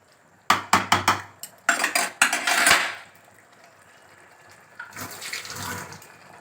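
Water splashes into a pan of chicken keema ghugni on a gas stove in a series of sharp bursts, then pours more steadily, followed by a quieter sizzling stream.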